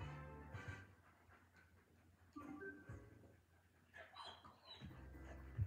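A dog whimpers and pants close by in short, uneven bursts of high whines and breathy huffs, with soft background noise between them.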